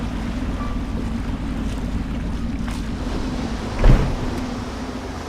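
A boat carries passengers along a river in Dishonored, a steady low engine hum and water wash heard close, with a brief thump near the end and no talking.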